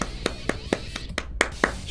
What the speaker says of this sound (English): If we could get a clap for that.